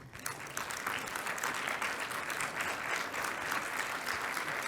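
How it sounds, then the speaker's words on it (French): Audience at a graduation awards and oath-taking ceremony in Marseille applauds the graduates' parents, a dense, steady roar of many hands clapping that holds loud and even throughout. "acceptez de vous dresser et d'applaudir vos parents"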